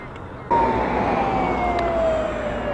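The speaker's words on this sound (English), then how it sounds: "the sirens started blowing and the horns started beeping almost exactly at 11 a.m." A loud siren suddenly starts wailing at a Fourth of July parade in downtown Malone, its tone slowly falling as it sounds continuously over a busy outdoor background with horns.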